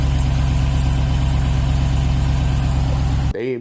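A Ram TRX truck engine idles steadily at close range, its low rumble carrying a faint persistent tick that never fades, before it cuts off abruptly near the end.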